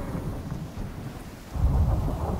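A thunderstorm in the survival game Icarus: a steady wash of rain with low rumbling thunder that swells louder midway through and keeps rolling, no voices.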